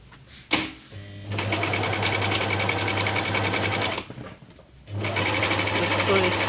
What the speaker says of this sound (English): So here I'll start the sewing.